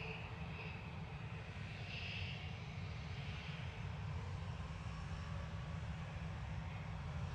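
An Ethiopian Airlines plane arrives at Manchester Airport, its engines a steady distant roar heard alone across the whole stretch, faint and continuous with a broad rumbling body.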